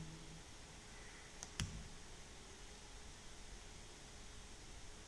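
A couple of quick, faint computer mouse clicks close together against a quiet hiss of background noise, no one talking.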